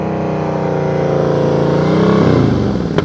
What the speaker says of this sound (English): All right, make sure you're listening to your revs.